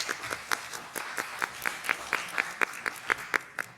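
Audience applause at a 2022 State Assembly district candidates forum in Newport, heard as a spread of quick claps with repeated sharp peaks, moderately faint, running steadily for about four seconds in a room.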